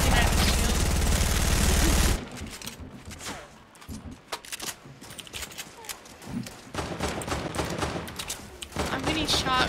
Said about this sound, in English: I'm getting shot from east too